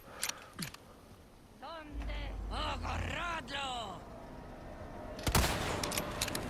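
A rifle in the Resident Evil 4 Remake video game fires a couple of sharp blasts among game grunts and voice sounds, the loudest shot near the end.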